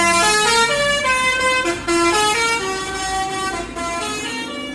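A Superjaya bus passing and sounding its horn, a loud, sustained, multi-tone musical horn playing a series of held notes with brief breaks, close by over light road noise.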